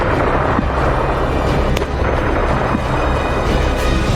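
War footage carries loud, repeated explosions and heavy booms that rumble continuously, with sharp blasts rising above the din of battle.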